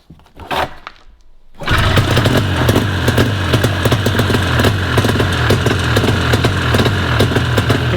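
Ski-Doo Safari snowmobile engine fired up and running off a fuel bottle, settling into a loud, steady, close-up rumble after a short quiet start.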